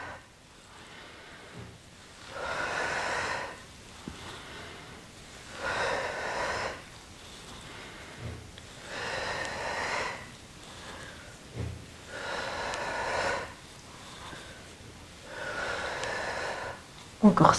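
Slow, steady breaths in and out during a gentle seated gym-ball exercise class, heard as regular airy swells about every two seconds, close and fairly loud with no talk over them.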